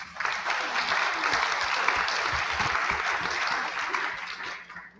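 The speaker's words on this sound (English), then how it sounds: "I think we should give them a round of applause" Audience at a town hall meeting breaks into sustained applause, a dense wash of clapping that holds steady for about five seconds before tapering off at the end.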